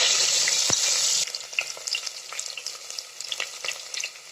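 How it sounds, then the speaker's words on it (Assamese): Onions fry in oil with panch phoron and dried chilli for Assamese jackfruit bhaji: a loud, hissing sizzle at first, then quieter crackling with scattered spoon scrapes and stirring taps, close by with no talk. "এতিয়া মই এনেকৈ পিয়াজখিনি অলপ ৰঙা কৰালৈকে ভাজি ল'ম"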